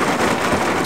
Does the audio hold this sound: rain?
yes